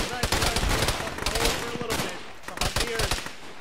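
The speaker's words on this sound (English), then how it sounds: "What are those shots right," Rapid gunfire in the Arma military shooter played by ShackTac, with repeated bursts of rifle and machine-gun shots, some close and some more distant, under faint voice chatter.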